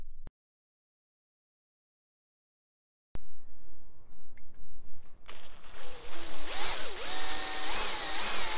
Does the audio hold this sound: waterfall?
no